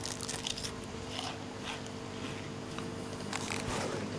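A character eats food in the video game The Long Dark, a steady run of crunchy bites and chewing over a constant low game ambience hum, with no talking.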